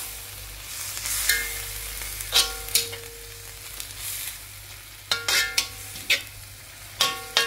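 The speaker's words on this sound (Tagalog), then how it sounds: "Kailangan din halu-haluin." Sweet peas and cabbage sizzle steadily in a pan while being stir-fried for pancit, with a constant fry hiss punctuated by several sharp scraping clacks of a utensil against the pan.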